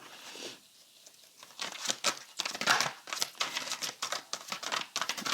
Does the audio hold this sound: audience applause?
no